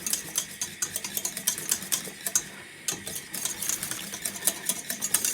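A spoon stirring pepper, salt and nutmeg into a sauce for a croque sandwich, giving a quick rhythmic series of light taps and scrapes against the pot, close by.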